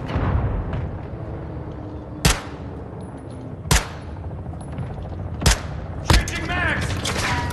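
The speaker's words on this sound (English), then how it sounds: "Hostile mortar strike in the area." Mortar strike explosions in Call of Duty MW2 multiplayer, four sharp loud blasts spaced a second or two apart over a busy rumbling battlefield bed, with radio voice chatter in the background.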